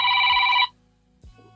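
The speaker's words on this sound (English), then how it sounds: "Is that my phone?" A phone rings with a bright, steady electronic trill for over half a second, fairly loud and close, then stops, leaving a quiet room hum.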